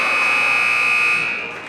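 Loud, sustained electronic buzzer at a high school boys basketball game, Old Saybrook versus Haddam Killingworth, sounding alone as a steady tone for over a second before fading.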